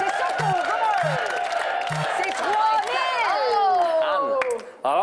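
Studio audience at a French-language association game show cheering and clapping for a contestant by the prize wheel, a lively crowd under a host's voice, with sharp beeps and swooping electronic tones over the noise.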